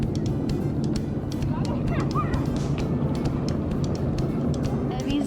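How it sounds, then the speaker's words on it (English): Ducks on a lake call in faint, brief honks and quacks beneath a steady background hum, with a person talking over them. "Look at the ducks, Abby."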